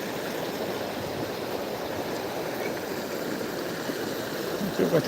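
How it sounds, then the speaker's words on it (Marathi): Steady rushing, gurgling flood water from heavy rain flows continuously, a broad watery roar close by with no clear voices. "खळखळ पाण्यात आवाज आहे"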